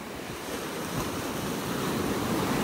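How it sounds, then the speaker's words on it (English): Ocean waves breaking and washing onto a beach in North Naples, Florida, a steady broadband surf roar with wind noise, building slightly louder toward the end, no voices. "These waves will bring some really nice things up onto the beach"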